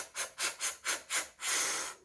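Breathing exercise done through the nose: five short, evenly spaced sniffing inhalations, then one longer steady breath, close and soft with no talking.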